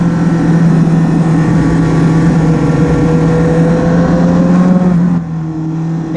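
A racing superbike engine holds a steady, loud, high-revving drone at Cadwell Park during a Pirelli Super Series 1000 round, heard close up from on board, easing slightly near the end.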